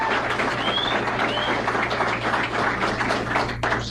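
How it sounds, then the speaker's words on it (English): Live studio audience at a Philadelphia radio broadcast applauding and cheering, a dense, steady wash of clapping that fills the whole stretch with scattered whoops over a low hum. "so clap like you mean it"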